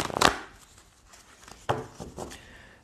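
A deck of tarot cards being shuffled close by, with a sharp riffle burst at the start followed by softer, scattered flicks and slides of cards, quiet and alone.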